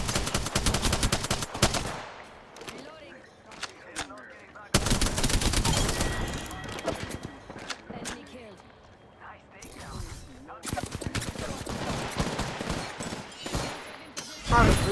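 Rapid bursts of G7 Scout rifle fire in the video game Apex Legends crack out in quick volleys with brief pauses between them, loud and close, with gameplay sounds between the bursts.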